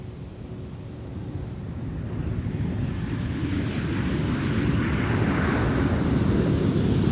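An Airbus A321neo airliner from Atlanta on runway 12 right at Minneapolis–St. Paul airport, a broad engine roar that builds steadily to a loud rumble, with no talking.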